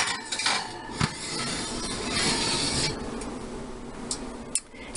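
Metal pans clink and clatter a few times as potatoes for a meatloaf dinner go into a home oven, with sharp close knocks and a softer rubbing scrape between them.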